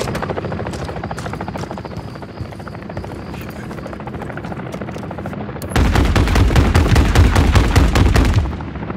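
Attack helicopters roar over rapid gunfire in a Call of Duty: Modern Warfare 3 battle, a dense rotor drone with scattered shots that bursts into loud, sustained machine-gun fire for several seconds before easing.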